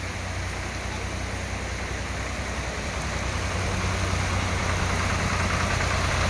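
A tractor's low engine rumbles steadily close by, a deep continuous drone that swells slightly louder toward the end.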